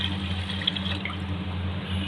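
Water runs steadily into a pot for Syrian sweet syrup, a short, even stream with a faint low hum behind it.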